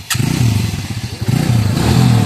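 A used TVS Radeon motorcycle at a bike fair, its engine running close and loud with a pulsing exhaust beat that dips and swells as it is revved, no one speaking.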